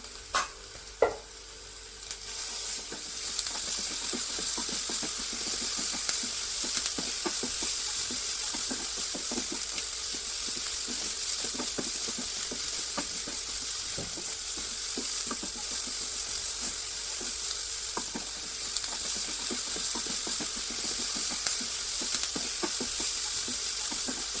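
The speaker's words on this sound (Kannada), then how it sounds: "ಇದು ಸ್ವಲ್ಪ ಹಸಿ ವಾಸನೆ ಹೋಗೋವರೆಗೂ ಆಡಿಸ್ಕೊಂಡ್ಬಿಡೋಣ" Ginger-garlic and green chili paste sizzles steadily in a pan for a festival chickpea usli, with frequent scraping stirs and light clinks throughout, close and continuous with no talk.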